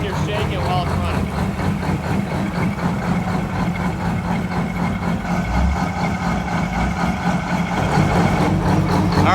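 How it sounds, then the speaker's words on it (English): Home-built two-stroke diesel truck engine of over 2,000 horsepower idling with a heavy, rough, rapid low throb, steady and close, while someone talks over it. "She's whole truck's sitting here shaking while it's running."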